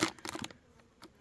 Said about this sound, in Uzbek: Arilar mana aktiv holatga o'tgan.